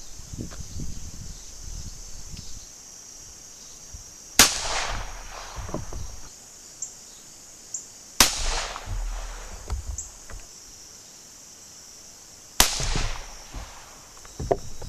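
Three sharp, loud revolver shots fired at targets on an outdoor range, spaced several seconds apart, each ringing out with a brief echoing tail against quiet background noise.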